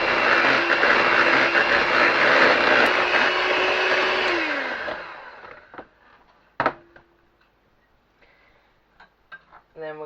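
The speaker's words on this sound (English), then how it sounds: "And then we're going to whisk that in." An electric mixer whisks red velvet cupcake batter, a loud, steady whirring hum for about four seconds that winds down and stops, followed by a few faint clinks and light kitchen noises.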